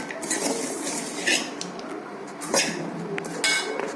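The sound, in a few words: stirring a snack mixture in a bowl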